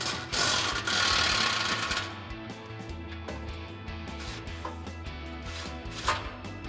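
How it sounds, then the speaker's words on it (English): An impact wrench with a 13 mm socket on a long extension rattles off an exhaust flange nut under a 2019-2024 Silverado or Sierra 1500. A loud, rapid hammering burst settles into steady, lower rattling. "grab our 13 mil socket and a very long extension on our impact."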